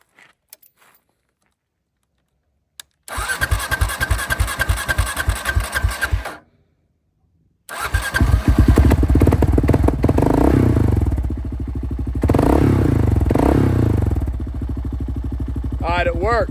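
A motorcycle that has been sitting for a while, fitted with a vacuum petcock, cranks in a fast clattering burst and then catches, running with a loud steady idle and a brief revving swell.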